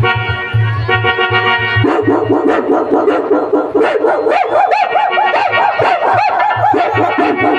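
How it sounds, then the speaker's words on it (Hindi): A dog barking and yipping repeatedly in quick, excited bursts, loud and close, with whimpering tones between barks over a steady musical background. "अचानक एक कुत्ते के भौंकने की आवाज सुनाई देती है"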